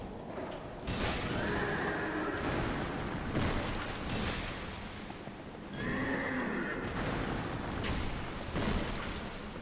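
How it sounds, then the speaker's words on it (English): Horses in the game Dark Souls 2 neigh loudly in two long shrill whinnies, each cut through with heavy booming impacts and clattering, close and dramatic with no talk. "Two horses."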